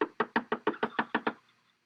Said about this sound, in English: we knocked on her door